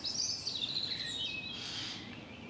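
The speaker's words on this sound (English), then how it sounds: "there in the background you can hear the usual noise of a jay" A Eurasian jay calls in the background of a pastoral walk near Haslemere, heard as faint, harsh screeching bursts at a distance amid quiet outdoor ambience.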